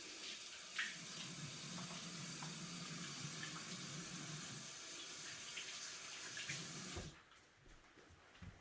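Hands being washed under a running kitchen water tap while preparing an apple crisp, a steady continuous splashing stream that runs for about seven seconds before the flow stops, leaving near-quiet.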